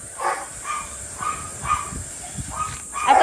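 A pet dog barks and yips before bath time in several short, close bursts spaced across the moment, with a faint hiss in the background.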